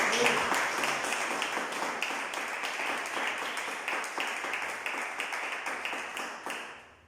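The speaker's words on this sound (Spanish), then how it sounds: "Denle un aplauso a Dios." Church congregation clapping for God at a testimony night, a dense sustained round of applause that fades out near the end.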